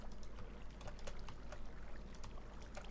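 Water filling and flowing into a block space in Minecraft Sky Factory, a continuous watery rush with scattered splashy ticks over a low steady hum.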